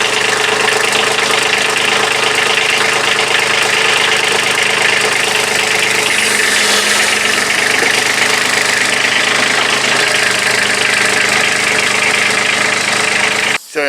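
A Kubota B2601 compact tractor engine runs in four-wheel drive and low gear, a loud, steady knocking diesel drone that holds even for the whole stretch, close by, with no voices.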